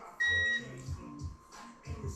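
A single sharp electronic beep from a 5-inch FPV drone build during a wiring check, loud and clean for a moment, then someone talks quietly afterward.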